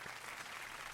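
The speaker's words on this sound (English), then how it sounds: "That calls for a big round of applause" A studio audience gives a steady, dense round of applause for a fitness model, filling the whole moment without a break.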